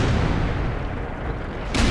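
A continuous heavy rumble of tank cannon fire and battle noise in World of Tanks, with an M48A1 tank in play, ending in a sharper burst at the close, loud and dense throughout.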